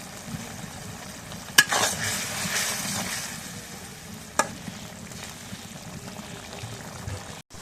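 Turmeric and chili powder spice paste sautés in a pan with a low, continuous sizzle, scraped by a spoon and marked by two sharp knocks against the pan.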